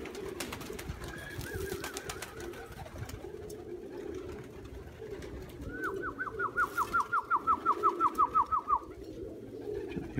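Pigeons coo in a loft in changeable weather, with repeated rhythmic rolling coos, a short run early and a longer, louder sequence midway, close by over a low background murmur.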